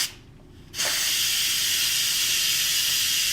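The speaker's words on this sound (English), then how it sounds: "flip the venting switch over to vent, and then all the steam is going to release" Steam from an Instant Pot pressure cooker's vent bursts out after a brief quiet moment and then hisses loudly and steadily up close, a continuous high rushing sound.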